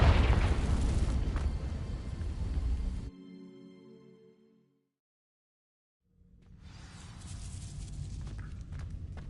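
Two heavy booms from the Confringo blasting spell in the Hogwarts Legacy video game, one at the start fading into a sharp cutoff, then a second rumbling burst rising after a brief silence.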